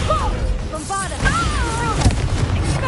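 A Bombarda blasting spell from Hogwarts Legacy goes off in a loud, booming explosion amid rapid spellcasting effects, with whooshing magical tones swirling around the blast.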